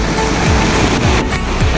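A small waterfall on a monsoon trek to Ratangad Fort in the Sahyadri hills of the Western Ghats roars as a loud, steady broadband rush of falling water throughout, with no talking.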